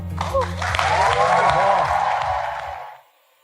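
An audience breaks into applause after a recited poem, a dense burst of clapping and cheering that swells and then stops abruptly about three seconds in.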